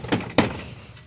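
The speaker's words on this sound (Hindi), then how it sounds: "अंदर जाकर खटकाओ दरवाजा" Two sharp knocks on the door of a house, the second louder, each ringing briefly before fading into quiet.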